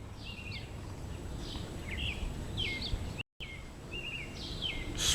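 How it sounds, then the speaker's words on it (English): Birds sing in short, repeated chirping phrases over a steady low background hum, fairly distant, with a brief gap of silence midway. "I hear birds singing"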